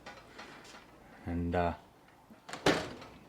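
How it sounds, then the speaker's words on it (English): A toolbox drawer with a locking mechanism is tugged and catches against its lock, giving a short, sharp clunk near the end, after a brief stretch of someone speaking. "The drawers you'll see have a locking mechanism, which say if you pull on it,"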